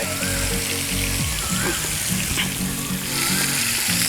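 Pork sizzles and fries in a pan with seasoning sauce at a car campsite, a steady, loud hiss with soft stirring scrapes throughout.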